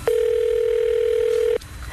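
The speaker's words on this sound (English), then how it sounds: "High pitch calls Eric the Midget" A steady, loud single telephone line tone plays as a call connects on a radio show, holding for about a second and a half before cutting off abruptly into quiet.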